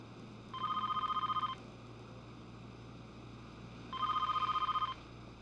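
A telephone rings in two rapid trilling bursts about a second long each, separated by a pause, faint and distant over a steady low hiss with no talk.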